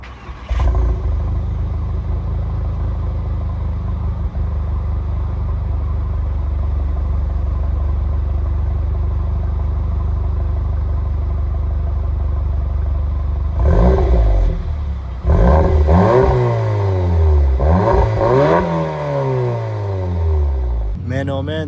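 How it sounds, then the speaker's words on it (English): 2015 Audi S3 Prestige with stock exhaust, a loud steady idle rumble followed by several sharp revs rising and falling near the end, heard up close. "Now let's go ahead and take a listen to that exhaust"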